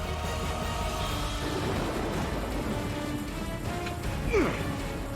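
Heavy downpour drums steadily in a video game, a dense wash of rain on surfaces with faint rumbling underneath and a brief sharp scrape near the end, no voices over it.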